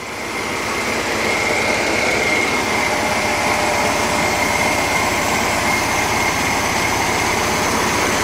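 A rebuilt Volkswagen engine runs steadily for several seconds, a loud, even idle with a continuous rough mechanical drone and no talk over it.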